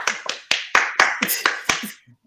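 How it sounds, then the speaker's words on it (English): A short burst of crisp, sharp clapping from an audience, about eight distinct claps in an uneven rhythm, close and fairly loud, tapering off quickly. "Give a resounding applause and cheers"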